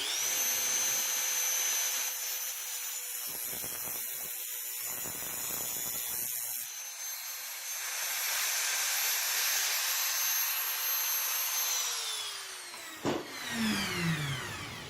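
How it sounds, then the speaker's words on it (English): A Dremel rotary tool grinds through small weld tacks on a custom exhaust Y-pipe. It is a loud, steady high-pitched whine that dips and shifts as the cutting load changes, then spins down near the end, and no one speaks. "the easiest way to do that is just with a Dremel tool"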